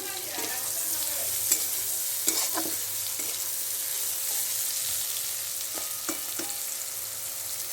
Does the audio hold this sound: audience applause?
no